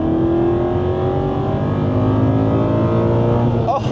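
An Aston Martin V8 Vantage with a manual gearbox revs loudly and steadily, its engine note rising in pitch throughout, with a brief sharper flourish near the end.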